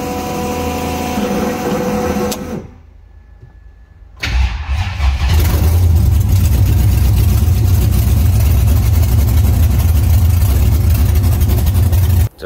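A Haltech-equipped drag car engine cranks, cuts out briefly, then fires up with a loud bark and settles into a steady, heavy idle that rumbles right up close.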